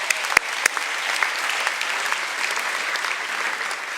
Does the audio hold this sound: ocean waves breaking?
no